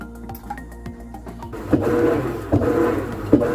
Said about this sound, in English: Now the machine is ready to do gentle agitation